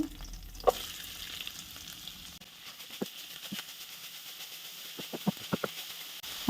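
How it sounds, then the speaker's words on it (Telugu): Onions, curry leaves and green chillies fry in a pan for dry prawn curry, a steady close sizzle broken by several sharp clinks and scrapes of stirring toward the end, with no talking. "కరివేపాకు, పచ్చిమిర్చి, కొత్తిమీర వేసుకున్న తర్వాత దీంట్లో ఆనియన్స్ కూడా వేసుకుంటున్నాను."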